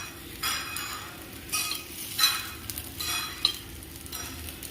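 Paniyaram frying in a pan while being turned, a soft steady sizzle with a few light scraping and clinking touches from the turning utensil, close and fairly quiet, no voices.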